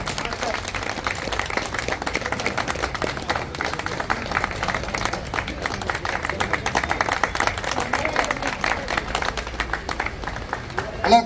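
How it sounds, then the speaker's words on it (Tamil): An audience at a gym competition event claps in sustained, dense applause that runs for over ten seconds. Voices are heard faintly over the clapping. "எல்லாரும் மிகுந்த கலந்த சிறந்த கரகோஷம்."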